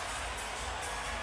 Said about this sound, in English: And a crowd acknowledging the great man once again.